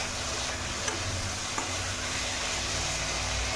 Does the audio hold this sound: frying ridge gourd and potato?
yes